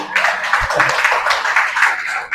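Loud, steady clapping from a church congregation, a dense rhythmic patter of many hands sustained for a couple of seconds.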